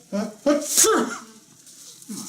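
A single sharp sneeze bursts out close by, preceded by a couple of short voiced sounds and followed by quiet murmuring.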